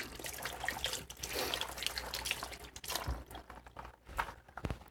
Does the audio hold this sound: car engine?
no